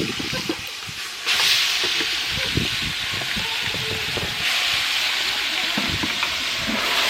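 Food sizzles in hot oil in a backyard in Jamaica for a Christmas dinner cook-up, a loud, steady crackling hiss close by with no voices over it.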